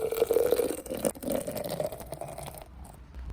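Water is poured into a French press over coffee grounds, a soft, close trickle that holds steady and then tapers off and stops near the end.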